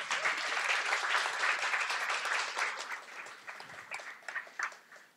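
Audience applause at a student poetry event during a university festival, dense steady clapping that thins out into scattered individual claps toward the end.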